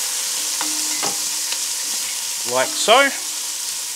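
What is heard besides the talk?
onions being stirred and frying in a pan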